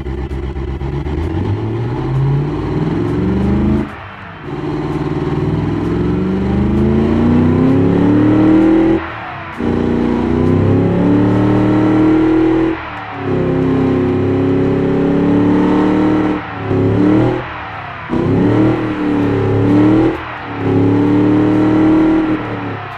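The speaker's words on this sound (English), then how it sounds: "Let's hear the modern crate engine of the same one from 1971." A modern crate engine of a 1971 design revving repeatedly: loud, close throttle blips that rise in pitch, hold, then drop between bursts, running alone without talk.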